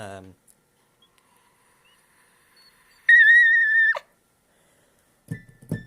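A single high, clear whistled note held for about a second, preceded and followed by brief bits of speech, otherwise quiet.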